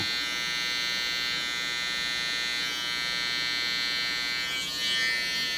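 Electric hair clippers buzz steadily and close up during clipper-over-comb work on the top of a curly-hair taper fade, a constant high whine with slight shifts in tone and no talking.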